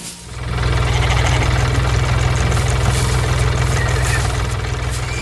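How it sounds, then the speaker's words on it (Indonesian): A red tractor pulling a hay baler works across a field of yellow hay in an animated scene, its engine chugging in a loud, steady idle-like drone that continues throughout with a faint mechanical clatter. "Traktor merah bersama mesin pengumpul jerami sedang bekerja keras."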